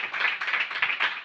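A church congregation clapping their hands loudly together in a quick rhythmic run of claps, close and with no voices over them.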